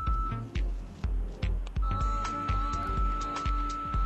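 A neck and jaw lift device emits a regular series of short electronic beeps, roughly two per second, with a faint steady tone and low thuds in between.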